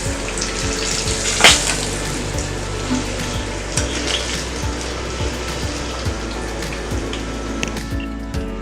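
Sweet corn samosas fry in hot oil with a steady, dense sizzle broken by sharp pops and crackles, close and continuous throughout with one louder burst early on.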